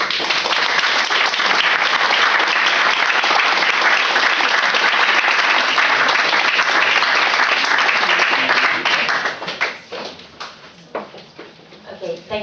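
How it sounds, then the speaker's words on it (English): Audience applause at a talk in a college hall, dense sustained clapping from a crowd for about nine seconds, then thinning into scattered individual claps. "Would you like to give a round of applause for our two contributors?"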